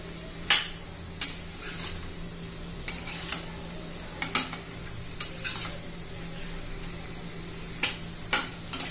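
Raw banana slices stirred in hot oil, a steady low sizzle with repeated sharp scraping clicks of a spoon against the pan, near and alone without speech.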